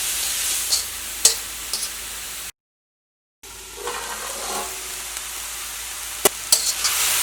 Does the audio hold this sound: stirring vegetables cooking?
yes